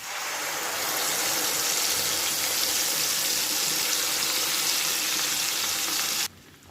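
Tomato paste hits hot oil seasoned with asafoetida, and a loud, steady sizzle of frying carries on without a break, then cuts off abruptly near the end.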